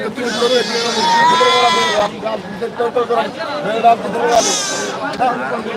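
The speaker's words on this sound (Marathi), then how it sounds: "प्रत्येक जातीच्या शेळ्या तुम्हाला इथं बघायला मिळतील" Goats of many breeds bleat repeatedly, loud and close, over a busy crowd of people talking and haggling at a goat market in Pachod.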